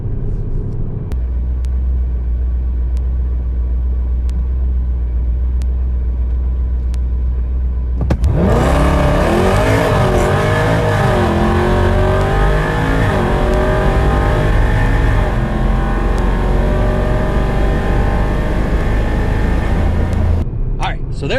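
A Ram 5.7 R/T Hemi launching on a drag run: steady idle rumble, then a loud roaring V8 pull through rising revs with audible gear changes, close and continuous until it cuts off at the end.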